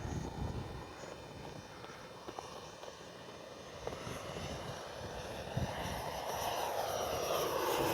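A radio-controlled F-15 model with a 64mm ducted fan makes a gear-down pass, its steady whooshing whine rising gradually in loudness as it approaches, with light wind on the microphone.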